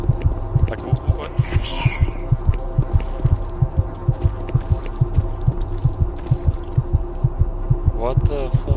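A game heartbeat in DOOM 3 thumps in a steady, fast, loud rhythm of low double beats over a droning hum, with brief game noises on top and no talk.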